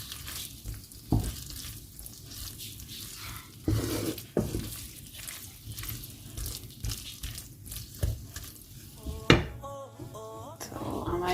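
Creamy garlic chicken is stirred in a pan over a soft, steady sizzle, with intermittent spoon clinks and scrapes against the metal and a few sharper knocks. No one talks.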